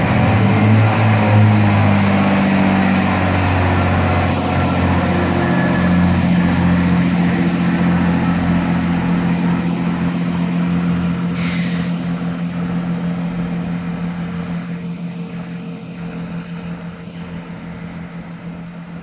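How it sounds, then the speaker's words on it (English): A train pulls away from Warwick station on the Chiltern Main Line, bound for Leamington Spa. Its steady engine rumble and hum start close and loud and slowly recede, with a brief hiss partway through. "And now we have the 1304 service now departing bound for Leamington Spa."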